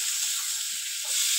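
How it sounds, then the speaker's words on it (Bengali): Vegetables sauté in a pan as a steady, bright hiss of hot oil, close and constant with faint low stirring bumps, no voices, for a spicy curry of potato, brinjal and fresh river bele fish. "এবার ভালো করে সবজিটাকে কষিয়ে নেব।"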